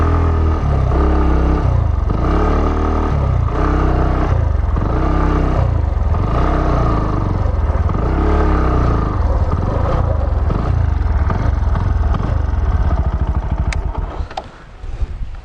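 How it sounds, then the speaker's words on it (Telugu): A Bajaj Pulsar NS160 motorcycle engine runs at a steady idle with an even, throbbing exhaust beat from the under-engine silencer. It is close and loud throughout, then dies away near the end. "ఇంజన్ సౌండ్ బీటింగ్ ఎలా ఉంది ఒకసారి చెక్ చేద్దాం."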